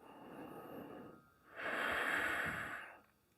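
Slow, deep yoga breath taken during a runner's stretching practice: a soft, steady inhale, a brief pause, then a louder, longer airy exhale close to the microphone, with no talking.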